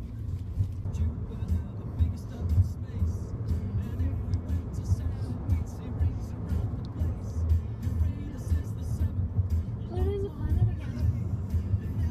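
A car drives along the road with a continuous low engine and road rumble, while a person talks inside the cabin for most of the stretch.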